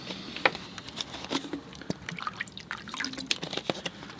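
Fresh clean water trickles and drips into a water container at a watercolor painting setup, with small splashy pours and drips scattered through the clip at close range.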